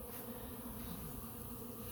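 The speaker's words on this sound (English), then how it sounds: "Look at how thick these bees are." Dense, steady buzzing of a mass of honey bees swarming around hive frames during a hive inspection after several days of rain, close and continuous with no talking.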